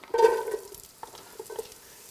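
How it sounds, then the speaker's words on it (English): Onions are tossed into a hot pan for ham hock and white beans, giving a brief sizzle and stir followed by a few soft scraping taps, close and moderately loud. "go ahead and toss in your onions"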